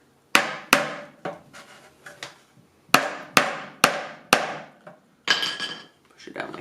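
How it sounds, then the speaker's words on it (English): Hammer driving a nail into a wooden beehive frame, a series of sharp close taps in irregular clusters, some blows louder and ringing, with quieter handling sounds between. "And then take your hammer,"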